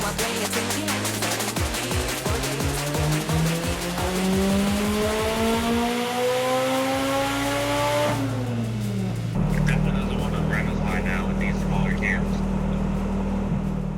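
A Nissan 240SX S13 engine revs on a dyno, climbing steadily in a long, loud, rising wail toward redline before it drops off and settles into a rough, lower idle.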